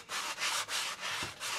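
Handmade wooden electric guitar body, a Maton Flamingo tribute, being sanded by hand in rhythmic back-and-forth strokes, five or so loud, close rasping passes with brief gaps between them.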